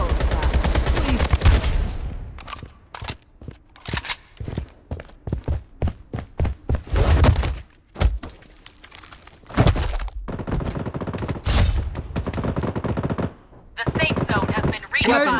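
Rapid bursts of automatic gunfire in the shooter game BloodStrike, loud and close, alternating with short pauses and single sharp cracks, continuing throughout with game voice callouts mixed in.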